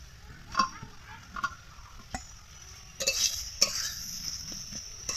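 Fried potatoes are tipped into a pan of half-broken figs being cooked with shrimp and stirred, giving a faint soft sizzle with a few scraping, clinking spoon strokes against the pan at irregular intervals.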